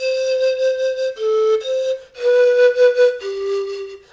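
An Andean zampoña pan flute plays a short melody with a clean, breathy tone, a few sustained notes stepping between pitches, close and unaccompanied.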